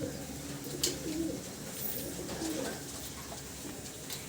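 Soft pigeon coos over a steady outdoor hiss as the pigeons bathe, a few low murmuring calls spaced apart, fairly faint and distant.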